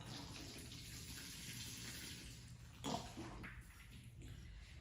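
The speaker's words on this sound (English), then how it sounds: "I'm gonna add some water to it" Water is poured into a container of potting soil for seed starting, a steady soft wash of pouring with a brief louder splash near the middle, close by with no talking.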